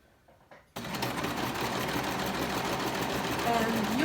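A serger sewing machine starts after a moment of quiet and runs steadily, stitching and gathering fabric with a continuous close mechanical whir.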